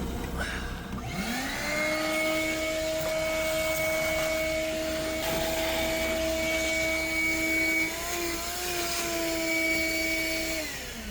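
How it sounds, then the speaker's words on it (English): A vacuum cleaner runs steadily and loudly throughout, its motor giving a sustained whining drone with a slight pitch dip near the end, cleaning debris out of a 1967 Plymouth Barracuda heater. "let's vacuum more of this crud out"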